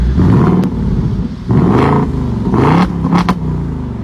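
Engine of a 2024 Ford Mustang with the eight-cylinder V8, revved by remote with nobody inside; a steady loud idle rumble broken by three sharp throttle blips that swell and fall back, close by.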